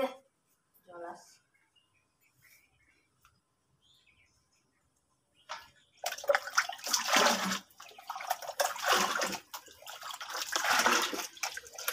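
Tap water runs to wash leafy greens. A quiet stretch with a few faint sounds comes first, then a steady, fairly close gush of running water splashes for the last six seconds.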